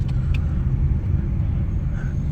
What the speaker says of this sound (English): there were like a lot of cars that did flybys